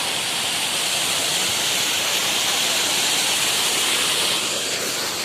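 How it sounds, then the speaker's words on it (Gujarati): A mountain stream pours down a slope beside the path to a hot-water pool on the route to Gangotri, giving a loud, unbroken hissing roar close by with no voices. "પહાડ ઉપરથી પાણી આવે છે।"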